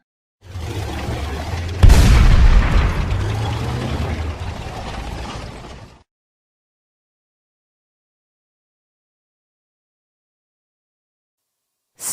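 A tank rumbles in a loud, close burst for about five seconds, opening with a heavy boom-like thump followed by a low engine roar that fades out, then long silence.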